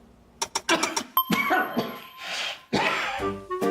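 A person coughs several times in a close, sharp series, with throat-clearing sounds between the bursts.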